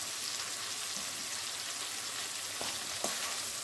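Tomatoes fry in a saucepan, a soft steady sizzle with small pops and a faint stir or two, close and alone without talk.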